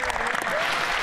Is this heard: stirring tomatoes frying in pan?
no